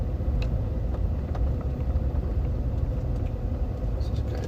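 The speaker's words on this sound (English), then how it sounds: "Just driving around the parking lot." A car rolls slowly around a parking lot, a steady low engine rumble heard from inside the cabin, continuous and moderately loud with faint knocks above it.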